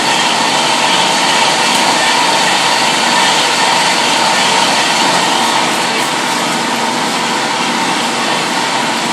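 A saw cuts through steel bar in a machine shop on a slow feed, giving a loud, steady broadband grinding whir that runs unbroken and without talk for the whole stretch.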